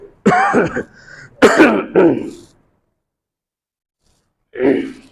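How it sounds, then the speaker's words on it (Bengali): A person clears their throat and coughs harshly several times up close, followed by a pause and one more rough throat clear. "কাশি আসে।"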